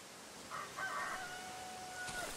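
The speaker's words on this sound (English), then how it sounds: "I hear chicken again." A chicken in the survival horror game Darkwood lets out a brief, tonal call over a steady ambient hiss, followed by a thin sustained tone near the end.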